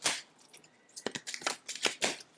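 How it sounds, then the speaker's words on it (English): Tarot cards shuffled by hand in a few quick bursts of riffling and sliding, close and fairly quiet, with short pauses between the papery flurries. "just let me shuffle a bit more"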